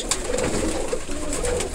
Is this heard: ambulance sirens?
no